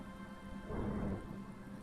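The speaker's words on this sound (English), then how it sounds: "The first cold rain of the season." Steady rain falls in a Disco Elysium game scene, with a low rumble of thunder swelling briefly in the middle, soft and somewhat distant.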